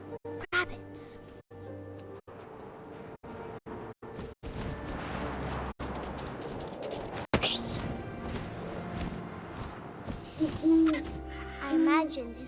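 Hooting owl in the video game What Remains of Edith Finch, a few soft calls rising over wind and ambient game sounds, with scattered thumps and a voice narrating throughout.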